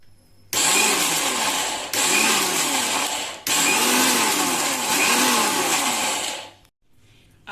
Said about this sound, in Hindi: तो हमने दाल को मिक्सर जार में ले लिया है।